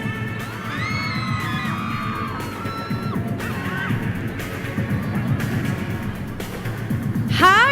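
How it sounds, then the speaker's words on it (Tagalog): At a beauty pageant's casual interview, a crowd of supporters shouts, whoops and cheers continuously, with high excited voices rising over a steady loud din and occasional bangs. "tinawag pa lang kita, ang dami ng mga sumisigaw"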